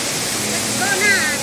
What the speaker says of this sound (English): The water falls from up to down!